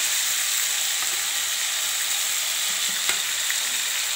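Stuffed eggplants fry in hot oil for a village-style kathirikai kuzhambu, producing a steady, close hiss of sizzling with a few faint stirring clicks.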